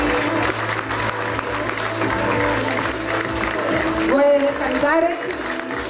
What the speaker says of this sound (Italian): un grande applauso per Giancarlo Cordigia